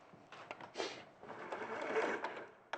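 A domestic sewing machine runs through fabric in a quick burst of stitching, its motor whirring and clattering steadily at close range before a short pause and a final click.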